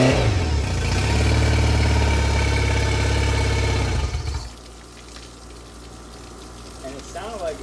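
A Yamaha 50HP outboard engine runs loud and close, revving strongly for about four seconds before dropping to a rough, uneven idle, with a voice faintly audible near the end.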